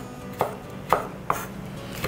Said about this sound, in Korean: 다시 이렇게 엎어서 써신 후에 돌려서 다시 한번 작게 썰어 주시면 돼요.